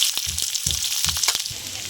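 Chopped onion and torn chillies hit hot oil in a pan, giving a loud steady sizzle broken by a few short scraping stirs; no voices.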